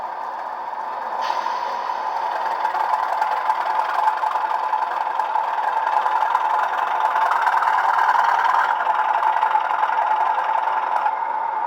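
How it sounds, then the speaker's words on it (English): A Bachmann Class 37/4 model diesel locomotive's sound unit gives a loud, steady engine drone that holds at a constant level for the whole stretch, with no voices over it. "It is a very loud locomotive, so bear that in mind."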